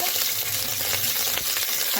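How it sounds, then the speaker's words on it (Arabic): Meat searing in a hot pot with a spoonful of butter and a spoonful of oil, a dense, steady sizzle and crackle close up, with light stirring scrapes and no talking. "وانزل بقى باللحمة عشان اشوحها. نزلت باللحمه كده عشان اشوحها"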